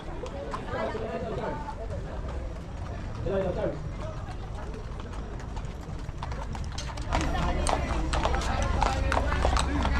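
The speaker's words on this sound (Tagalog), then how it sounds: "pakita ko sa inyo yung mga kabayo rito." Horses clip-clopping along the paths of Wright Park in Baguio, a steady scatter of hoof beats close by under ongoing crowd chatter and people talking, growing louder and busier toward the end.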